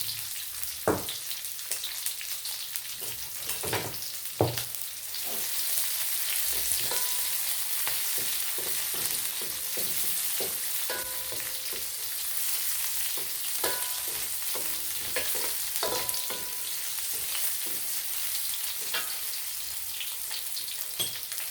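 Dried red chillies, onion and green chillies fry in hot oil in a pan, a steady close sizzle with scattered crackles and spatters and occasional stirring clinks, no voices.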